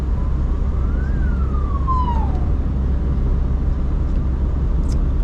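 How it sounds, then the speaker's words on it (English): An ambulance siren rises and falls once as the vehicle passes on a rural road in the Brisbane Valley, Queensland, heard from inside a moving car over steady engine and road rumble. "Oh, an ambulance."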